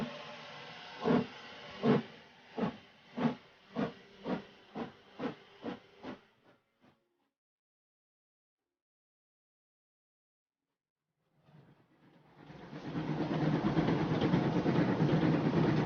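A steam train puffs in a slowing rhythm of about a dozen loud chuffs that fade away, then after a pause a strong, steady hiss of steam swells up.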